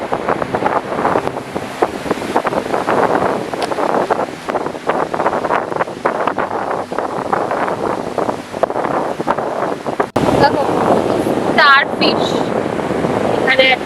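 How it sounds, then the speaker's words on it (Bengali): Strong dawn wind buffets the microphone at Digha beach while sea waves roar steadily on the Bay of Bengal shore, a loud continuous wash with a brief break near the end and some faint tonal sounds. "প্রচুর হাওয়া ভোরবেলার সমুদ্র একদম শান্ত নিরবিলি আর সমুদ্রের খালি কলরব আর কোনো শব্দ নেই"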